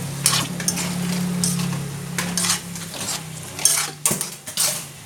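Sweet and sour spicy chicken mixed in a pan, with a utensil scraping and knocking against the metal in steady close strokes and a few louder clanks near the end.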